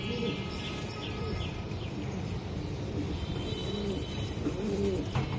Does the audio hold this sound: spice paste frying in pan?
no